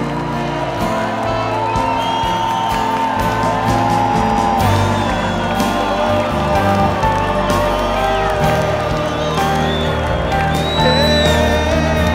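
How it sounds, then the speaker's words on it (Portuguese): A worship show audience cheers and whoops continuously over loud music and echoing voices, a dense, sustained crowd roar with shouts rising throughout. "glorifica com seu aplauso, com seu grito, com seu entusiasmo"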